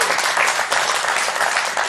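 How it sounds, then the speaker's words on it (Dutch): Dense, sustained applause from a large crowd, loud and even throughout with no break. "Wel met een applaus eerst voor Frank de Moesje natuurlijk."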